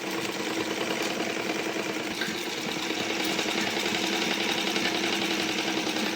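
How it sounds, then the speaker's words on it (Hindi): A sewing machine stitches a blouse neck in a steady, continuous mechanical whirr, loud and close, running alone without pause. "यहाँ से सिलाई स्टार्ट करके यहाँ तक सिलाई लगाते हुए अंत तक सिलाई लगानी है"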